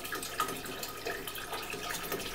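Tap water poured steadily onto the filter of a betta fry tank, a continuous close splashing trickle with small bright drips, no voices.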